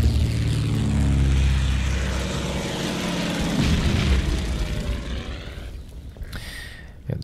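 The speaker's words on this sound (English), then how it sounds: "And the planes still go forward." Propeller aircraft engines drone steadily in the World War II Pacific strategy game Order of Battle: Pacific, a loud, thick rumble that holds for several seconds and then thins slightly as the planes press forward.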